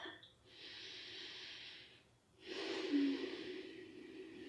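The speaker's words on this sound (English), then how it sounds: "Big breath." Two slow, airy breaths drawn and released during a quiet yin yoga hip stretch, soft and close with a short pause between them.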